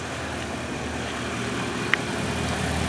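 A 1947 Monarch car engine idles steadily nearby, a low continuous rumble with one brief sharp click near the end.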